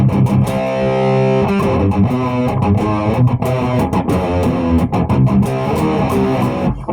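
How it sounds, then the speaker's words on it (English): An electric guitar plays a riff through an MXR Fullbore Metal distortion pedal set to heavy fuzz, with thick buzzing chords and sustained notes, loud and close. "This like turns it into a fuzz or something."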